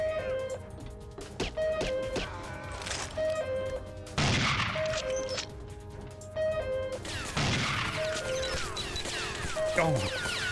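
Gunfire in the PC game 007: Nightfire (2002), sharp shots and crashing impacts in bursts mixed with game music tones and effects, with a voice talking over parts of it.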